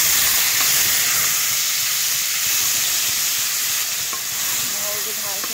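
Garlic fries in hot oil for fried rice, producing a loud, dense, steady sizzle with a hiss of steam and faint stirring scrapes.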